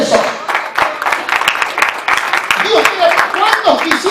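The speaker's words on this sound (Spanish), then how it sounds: "Denle un aplauso a Dios por eso." Congregation clapping in a church service, dense irregular claps close by mixed with cheering and shouting voices throughout.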